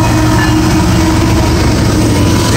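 A northbound Norfolk Southern NS 122 mixed manifest freight with a single distributed power unit rolls past close by, a loud steady roar of wheels and cars with faint clickety-clack.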